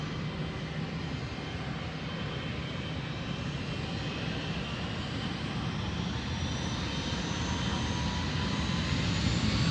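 A China Southern Boeing 777 jet airliner's engines hold a steady, broad roar that slowly swells in loudness and pitch over several seconds, with a faint rising whine on top and no one speaking.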